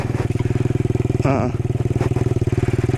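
A Honda Trail 90 motorcycle climbs an off-road trail in second gear. Its small single-cylinder engine chugs in a steady, loud pulse that runs through the whole stretch, with a brief rougher clattering surge near the middle.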